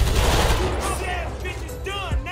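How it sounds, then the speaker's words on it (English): Gunfire crackles during a big gang fight in the video game GTA 5, a dense burst of shots followed by ringing, whining tones, with a voice briefly heard. "We literally was shooting like 100 guys right now."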